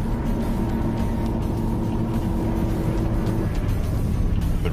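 Carolina skiff motorboat pulling away at full throttle, a steady loud engine roar with a sustained droning tone throughout, close and continuous, with no talk over it.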